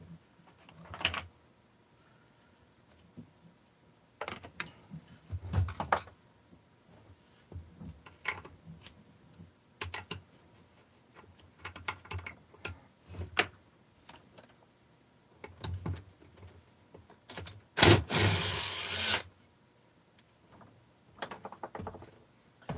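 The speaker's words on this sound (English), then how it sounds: "So I'm pulling out the case bolts" Crankcase bolts come out of a two-stroke engine case, a faint series of scattered metallic clicks, ratchet turns and small clunks, with one louder burst of clatter.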